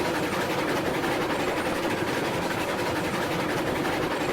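A Heisler steam locomotive hauls a decent-sized train in the video game RailRoads Online, giving a continuous dense chuffing and rumbling drone with steady mechanical rattle, loud and close, with no speech.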